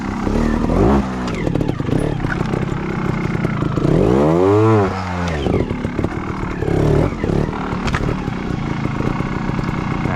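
A trials motorcycle revving in second gear during a solo riding session, its engine loud and close with choppy throttle blips, rising and falling revs and mechanical clatter throughout.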